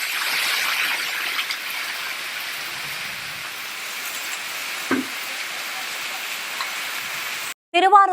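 Heavy rain in Tamil Nadu pours down as a steady, dense hiss with scattered splashes and drips. It keeps going without a break until a brief gap, and then a voice begins speaking.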